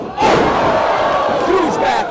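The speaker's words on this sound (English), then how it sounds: "you hear the crowd here who wasn't too happy about that" Wrestling crowd at a Boca Raton Championship Wrestling show groaning and jeering after a big back elbow, a loud sustained roar of disapproval across the whole stretch with shouted voices rising and falling.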